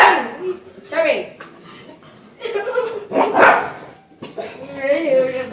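A dog barks and yips in short bursts close by, mixed with excited speech and a voice between the barks.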